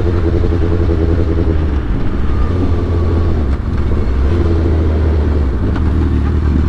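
A 2008 Suzuki GSX-R 1000 with velocity stacks and a new fuel pressure regulator idles at low RPM, a loud, steady, smooth engine drone running close without stuttering throughout.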